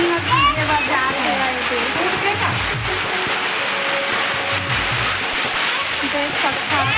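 Heavy rain pours down in a dense, continuous roar with splashing water close by, while people talk over it throughout.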